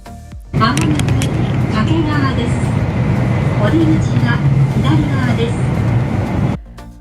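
Bullet train ride out of Tokyo, heard from inside the cabin as a steady, loud rumble and rush of rolling noise that holds evenly throughout, with a voice speaking over it.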